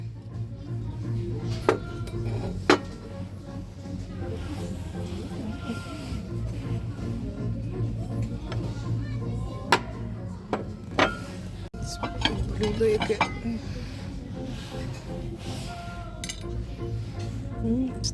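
Ceramic plates and dishes clink and knock now and then as they are handled, a few sharp taps standing out over a steady low hum.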